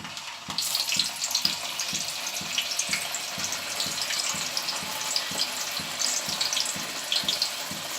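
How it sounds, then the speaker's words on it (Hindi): Baati dough balls deep-frying in hot oil, a steady dense sizzle and crackle with faint rhythmic knocking underneath, continuous and close throughout with no talking. "अब हम अपनी बाटी सब तल लेंगे।"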